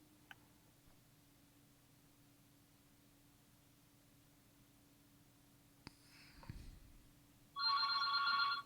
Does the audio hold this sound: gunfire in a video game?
no